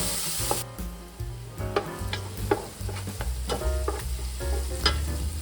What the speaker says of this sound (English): To add a bit of hot and spicy taste to the dish, add 1 tablespoon of red chili pepper and mix well.